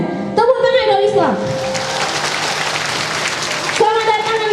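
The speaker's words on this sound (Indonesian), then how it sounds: "Tepuk tangan Darul Islam" Audience applause at a Maulid Nabi gathering in Darul Islam, Aceh, a dense steady patter of clapping filling most of the clip, bracketed by a loud amplified voice at the start and end.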